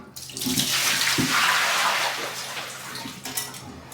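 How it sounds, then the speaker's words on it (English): Water from a toilet tank being dumped out, a loud rushing pour and splash that swells and then tapers into trickles and drips, with a few knocks of the porcelain. "Just pull it out, dump the water"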